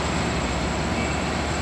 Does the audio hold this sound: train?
yes